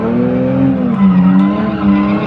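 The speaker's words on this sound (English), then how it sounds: "the sideways stinger show also gave us a better listen to the GT's exhaust." A 2018 Kia Stinger GT with a twin-turbo V6 drifts at the SEMA show, its loud exhaust droning in a wavering pitch that dips and rises as it slides, mixed with tire squeal.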